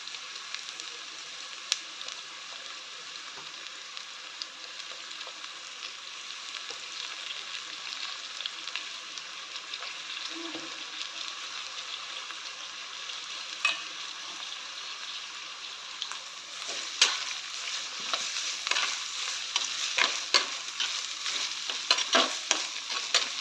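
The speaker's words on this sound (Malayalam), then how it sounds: "അതിലേക്ക് നമുക്ക് സ്ലൈസ് ചെയ്ത് വെച്ചിരിക്കുന്ന പൊട്ടറ്റോ ഇട്ട് കൊടുക്കാം." Sliced potatoes added to softened onions fry in a pan with a steady, close sizzle, broken by scraping and clatter from stirring that grows busier toward the end, with no talking.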